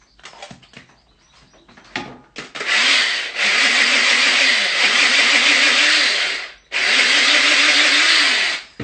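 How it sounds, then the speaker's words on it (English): An electric spice grinder whizzes hot chilies with garlic and ginger in two long, loud, steady bursts after a few short pulses, with a brief stop between the runs. "we're just going to whiz them up with our garlic and ginger"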